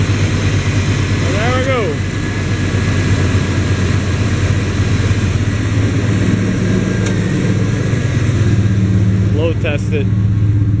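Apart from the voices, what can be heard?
car engine running rough in the cold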